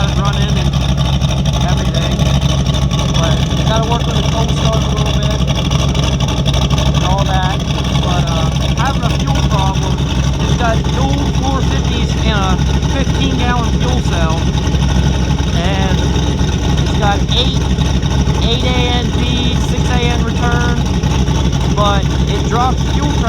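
A turbocharged LS V8 in a Foxbody running E85 with a Holley Terminator X idles loudly after a cold start, a constant rumbling drone throughout with someone talking over it.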